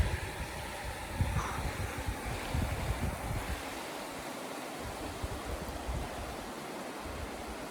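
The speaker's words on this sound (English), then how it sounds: "check out that icy cascading stream there." An icy mountain stream cascades down a slope in the Sierra Nevada along the Pacific Crest Trail, giving a steady, full rush of water that holds at an even level throughout, with no voices.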